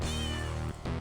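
A cat meows inside a video game, a single drawn-out, clear meow with a brief dip and a short tail at the end, close and loud with no talking.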